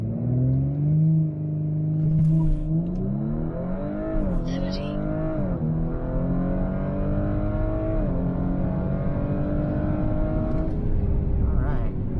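A Stage 1 B9 Audi S4 running E85 launches down a drag strip with traction control off in sport mode, its engine roaring loud and close as the revs climb and drop through several quick gear shifts over the full quarter-mile pull.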